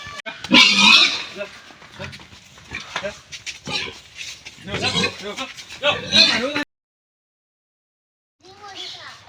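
Pigs grunt and squeal as they are taken away to be sold, close by and mixed with people talking, before a short pause and a few more sounds.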